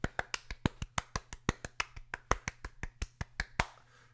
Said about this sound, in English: I clapped in a circle to be a round of applause